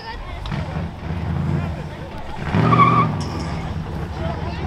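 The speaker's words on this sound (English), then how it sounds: "how many of you want to see the Duster do big burnouts?" Mopar Duster doing a burnout at a car show contest, engine roar with tire squeal swelling midway, heard from a moderate distance with crowd noise and voices talking over it.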